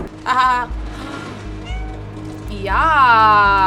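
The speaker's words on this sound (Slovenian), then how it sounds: "Jaz imam magično mjavkanje." A cat meows in the video game Stray, played on PS5: two or three clear, close meows, the last one long and drawn out, between bursts of a person talking and laughing.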